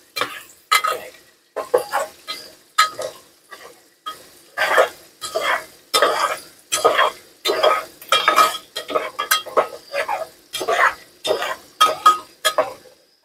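Khichdi stirred in a pan inside a vehicle, a spoon scraping and clattering in a steady rhythm of repeated strokes over a soft sizzle.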